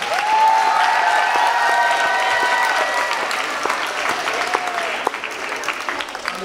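Audience applauding a class of elementary school children at a 2019 maypole assembly, a steady dense round of clapping throughout with a few whistles and voices mixed in, fading slightly toward the end.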